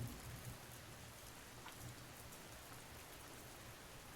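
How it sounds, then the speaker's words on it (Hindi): Light rain falls on a quiet night in a village, a soft, even hiss of drops that stays low and steady throughout with no voices. "बारिश की हल्की सी आवाज"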